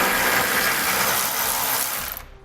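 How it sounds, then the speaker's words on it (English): A power tool, likely an impact wrench, drives a 15mm socket to remove bolts under a vehicle, a loud continuous whirring buzz that runs for about two seconds and then cuts off abruptly. "Let's get these out using a 15mm socket."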